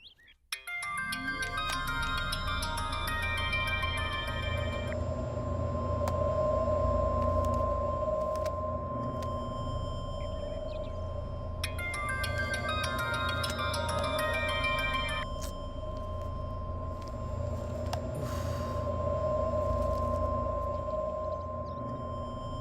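A phone call's ringing tone plays as the caller waits, with electronic melodic bursts at the start and again midway over a steady sustained hum, fairly quiet and without talk.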